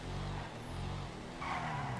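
Bravado Verlierer sports car, modelled after a German car, driven in GTA Online, a close engine drone with tyre skidding and squeal over two seconds.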